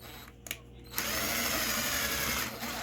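Power drill running steadily for about two seconds after a few short blips, driving bolts into parts on a Traxxas Xmaxx RC truck, close and fairly loud.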